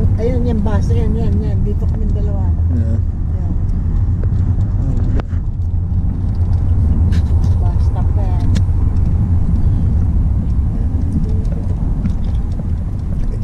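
A city bus in Paris idles and rolls past with a low, steady engine rumble and street traffic noise, while people talk close by over the hum.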